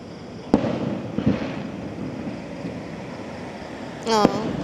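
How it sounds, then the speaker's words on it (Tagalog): A few sharp distant firework bangs pop out over steady outdoor rumble and wind in Kuala Lumpur, with a louder crackling burst near the end. "May mga paputok na nagaganap doon, oh."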